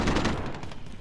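Rapid gunfire from a firefight in the video game Call of Duty: Modern Warfare, dense overlapping shots and bursts crowding the whole moment at steady loudness, with no voices over it.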